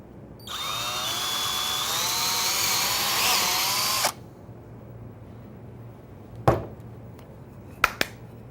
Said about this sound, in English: I'm ready to drill the pilot hole, the countersink, and the counterbore